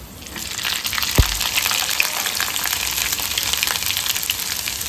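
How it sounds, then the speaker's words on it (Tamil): Black peppercorns crackling in hot fat for pongal, a loud dense sizzle with scattered pops and one low thump near the start, close and continuous without talk. "தப்பு டப்புன்னு வெடிக்கும் மிளகு பொரிஞ்சதுனாக்கா"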